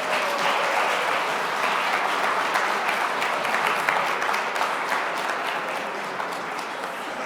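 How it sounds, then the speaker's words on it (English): An audience at a civic leadership academy welcome ceremony applauds the Mayor of Chicago, Brandon Johnson, with broad, continuous clapping that holds steady and only slightly thins toward the end. "Give him a round of applause."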